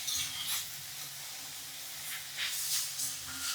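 Cabbage being fried in a pan for chutney, a soft sizzling hiss that swells in a few short pulses as it is stirred, fairly quiet and close.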